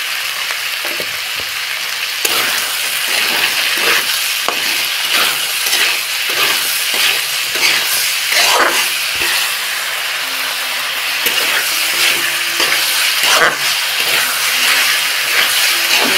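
Potatoes and capsicum frying in a pan, a loud steady sizzle with hissing steam and occasional scraping stirs running throughout, no voices over it.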